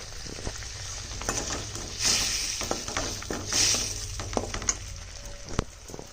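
Spice paste frying in a pan with a little water for a Bengali rohu fish curry with potatoes and drumsticks, a steady close sizzle with bursts of louder spitting and scattered clicks of stirring, no talk.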